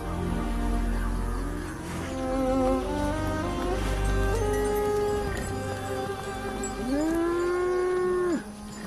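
Oxen and buffaloes moo loudly and close by, several long, drawn-out lowing calls following one another with no talk.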